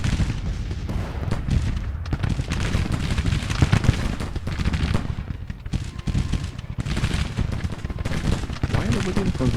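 Williams rapid-fire guns shoot in a Grand Tactician: Civil War battle, with dense, continuous crackling bursts of artillery-like gunfire throughout, loud and busy, and faint voice-like sounds mixed in.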